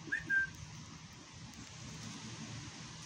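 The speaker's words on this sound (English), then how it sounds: "every time I whistle" A person whistles to call a wild bird outdoors in the UK in early spring, giving a short, bright whistle near the start over steady outdoor background noise.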